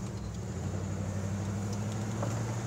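A 1984 Jeep Wagoneer on the road, its engine a steady low drone beneath continuous road and cabin noise, with no clear gear changes standing out.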